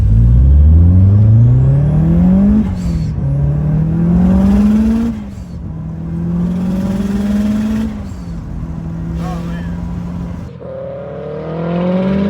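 Turbocharged Subaru STI or Mitsubishi Evo engine revs hard and loud from inside the cabin, with repeated rising sweeps hitting the rev limiter, shifting and climbing again across the whole stretch.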